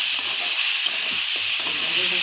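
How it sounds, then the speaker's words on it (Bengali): Spice paste of tomato and ginger frying in a pan for a vegetarian potato and pointed gourd curry gives a steady, close sizzle, with faint talking underneath. "মশলাটা কষানো হচ্ছে"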